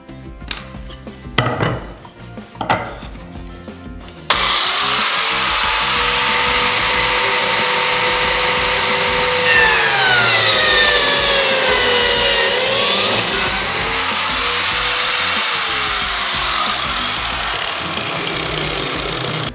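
A biscuit joiner cuts slots into wooden boards for a glue-up: a loud, sustained high-pitched whine that holds steady and dips in pitch as the blade bites into the wood, after a few short knocks and taps at the start.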